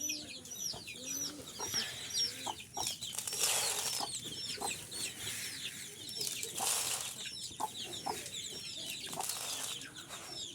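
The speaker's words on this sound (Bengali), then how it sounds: "খাবার বের করছি তো মুরগিগুলো সব চলে আসছে এখানে" Several desi chickens on a farm cluck and chatter nearby, gathering for feed, with overlapping calls and occasional bursts of wing flapping over a quiet background.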